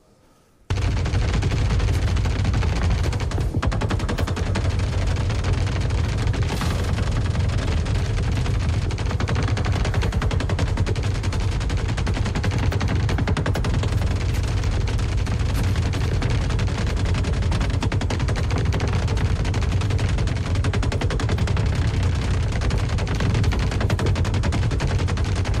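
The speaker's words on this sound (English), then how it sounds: "here's some video of some test footage of AI shooting each other behind breakable cover and Maelstrom barrels" Computer-controlled soldiers in Star Citizen trade sustained automatic gunfire behind breakable cover and Maelstrom barrels, a dense, loud, continuous barrage of rapid shots and impacts that starts abruptly after a brief near-silence and runs unbroken.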